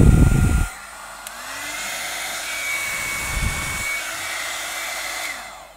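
Havells HC4085 1000-watt hot air styler blowing air with no attachment fitted, a steady close whooshing roar with a whine, running continuously after a brief louder burst at the start.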